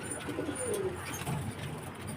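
Pigeons coo softly in a quiet indoor space, with a few low, rolling calls close by and no voices.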